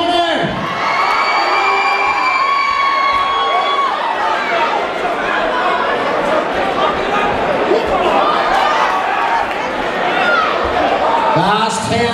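Crowd at a white-collar boxing event in Belfast cheers and whoops loudly for the red corner, a dense sustained roar with shouts and whistles running throughout, and a voice briefly heard at the end.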